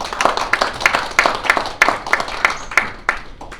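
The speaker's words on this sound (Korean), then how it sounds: "큰 박수로 환영해 주시기" A church audience welcomes a pastor with rhythmic clapping, a steady pulse of sharp, close claps at roughly three per second that stays strong throughout.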